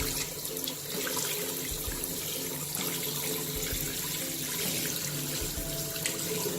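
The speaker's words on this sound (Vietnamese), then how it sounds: "mình xịt vào hoa sen này" A shower head sprays water directly onto a Bphone 3 smartphone, producing a continuous, close, steady hiss of spraying water with faint patters, and no voices over it.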